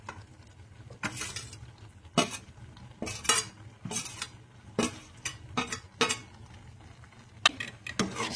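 A spoon stirs soy chunks into a dudhi (bottle gourd) bhaji in a pan, giving about a dozen close, irregular scraping clinks against the metal with quiet gaps between strokes and no talking.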